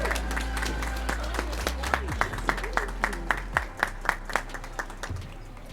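A graduation crowd at Integration Charter School claps to welcome a speaker: dense, sustained applause that thins into a slower run of distinct, evenly spaced loud claps toward the end.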